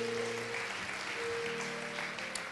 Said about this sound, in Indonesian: Luar biasa, boleh tepuk tangannya.